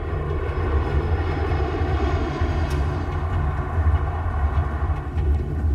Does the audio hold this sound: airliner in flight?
yes